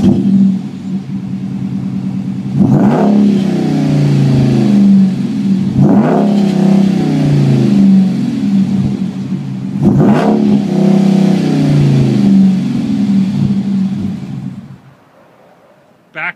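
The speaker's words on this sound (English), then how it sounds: "Customer also put on an exhaust system. Let's cut to that right now so you can hear it." A 2011 Ram 2500 Power Wagon fitted with an aftermarket exhaust idles with a deep rumble, then is revved three times in sharp, loud bursts before the engine cuts off.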